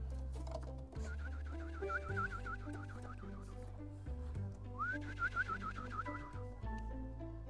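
Racing pigeons, newly arrived entries, move about a loft. Soft cooing mixes with a wavering, whistle-like trill that repeats in short runs, over a low, steady background hum.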